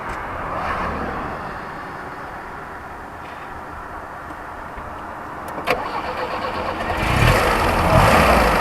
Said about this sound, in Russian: Машинка заглохла, контактики почистили, сейчас заведется.